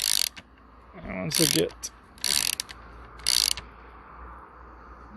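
A bearing puller tool draws a pivot bearing out of a Calibre Beastnut bike frame, making several bursts of sharp ratcheting clicks as it is tightened, close up, with a brief spoken remark between them.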